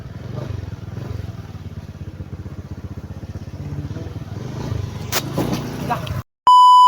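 Motorcycle engine running steadily at close range for about six seconds, with talking mixed in over the engine noise, then an abrupt cut to a sustained electronic tone.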